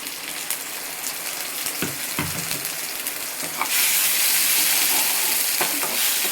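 Two medium tomatoes, ground to a paste, sauté in oil in a pan, giving off a steady close sizzle broken by stirring scrapes, and the hiss swells sharply louder partway through as the paste hits hotter oil.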